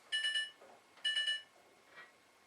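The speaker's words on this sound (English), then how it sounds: "just a couple beeps that happen every time you hit the start" A Whirlpool front load washer gives two short bursts of electronic beeps when its start button is pressed, each burst a quick cluster of bright tones, close and fairly quiet, with a faint third blip after.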